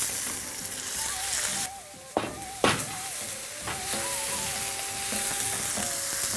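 Onion pieces sizzle loudly in hot oil with mustard seeds, cumin and curry leaves, a steady close frying hiss broken by a few sharp spatters and clinks.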